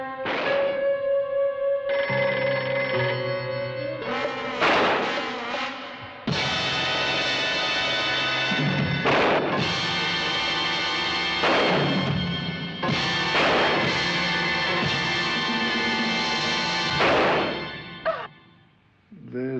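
An old telephone rings repeatedly with no one answering, its bell sounding in bursts while people talk nearby in a 1970s small-town setting.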